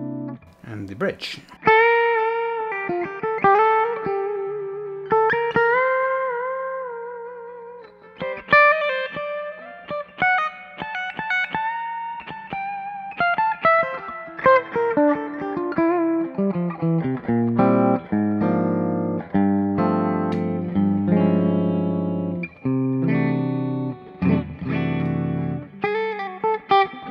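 An Epiphone Les Paul Special on its Wolfetone P90 bridge pickup plays a lead passage of picked notes, bends and chords, bright and sustaining, heard close and steady for about half a minute with no speech.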